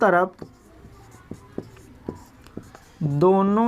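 Marker or chalk tapping and scraping on a board while a maths problem is worked out, a few short strokes and taps spaced apart, with a voice talking before and after.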